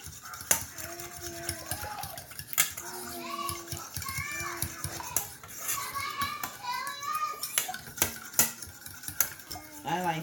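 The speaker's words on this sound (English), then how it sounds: "get your fork and just begin to beat it, stir it together" A fork clinks against a bowl as it beats eggs and milk for French toast, quick irregular taps and scrapes of metal on dish, with a voice and other talk in the background.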